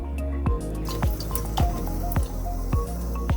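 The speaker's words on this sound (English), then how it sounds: "now one more time we're going to water it" Water drips and splashes steadily onto a potted bougainvillea cutting, with repeated wet drops landing roughly every half second, close and clear with no talking.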